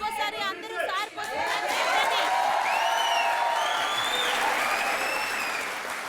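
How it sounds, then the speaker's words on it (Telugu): A television studio audience at a talk show applauds loudly and steadily for several seconds, with crowd chatter and cheering mixed in. "వాళ్ళంతా ఇప్పుడు మీకోసం చప్పట్లు కొట్టారు"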